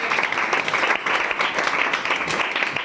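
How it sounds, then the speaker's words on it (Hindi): A group claps for a topper at a student award gathering, giving dense, continuous applause that stays fairly even throughout. "ताली मार इनके लिए"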